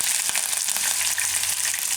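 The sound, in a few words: cumin and chillies sizzling in hot oil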